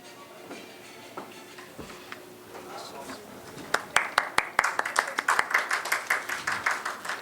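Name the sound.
audience applause at healthcare awards ceremony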